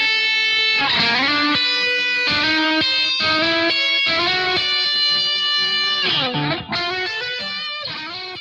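Electric guitar playing country chicken-picking licks built on sixths, with a driven, distorted tone, sliding double-stops and sustained bright notes in a steady phrased line, loud and alone.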